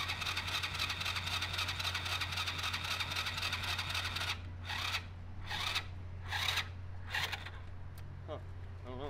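A 110cc pit bike engine fitted to a revived, once-abandoned go kart idles steadily nearby, its even rumble running throughout, while a few sharp scraping bursts cut in over the second half.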